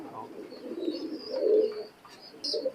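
High-flying pigeons of an imported bloodline coo softly close by, several low, throaty rolling coos in a loose rhythm, with faint bird chirps and background noise, no clear talk.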